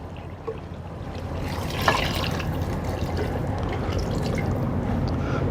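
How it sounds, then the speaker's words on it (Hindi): Water from a single glass pours into a pot of Delhi-style beef nihari, a steady trickling, splashing pour that runs continuously at close range with no talk over it. "ये 1 गिलास सर हमने पानी ऐड कर दिया।"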